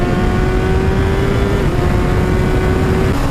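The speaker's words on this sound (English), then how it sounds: "It has got a nice little roar to it, with a standard exhaust on it, which is titanium by the way" A 2017 Honda CBR1000RR Fireblade SP1 motorcycle roars through its stock titanium exhaust. The sound is a loud, steady, close engine drone that holds for the whole stretch.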